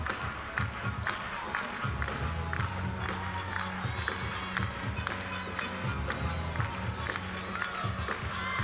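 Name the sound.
audience clapping at gymnastics meet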